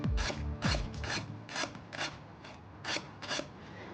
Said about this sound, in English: to prep the lemongrass, I like to just kind of get in there, chop it into smaller circles first.